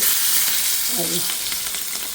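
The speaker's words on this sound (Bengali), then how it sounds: "এখানে যেটা মাছ ভাজতেছি ইলিশ মাছ দুটা ছোট্ট ছোট্ট" Two small hilsa fish fry in a pan with a steady, loud, close sizzle and spatter that barely changes throughout, a brief clink breaking in near the middle.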